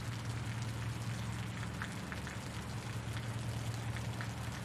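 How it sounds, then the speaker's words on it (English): Rain falls in the video game Osiris New Dawn, a steady, even hiss of drops that holds at a constant moderate level with no voices. "Oh, there goes rain."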